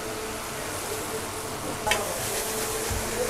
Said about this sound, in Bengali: ভাজতেছে একের পর এক চিকেন ফ্রাই